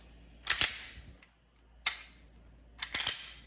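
Sig Sauer P320 X5 Legion California edition pistol being dry-fired: a few sharp metallic clicks, close and crisp, some doubled, separated by short silences.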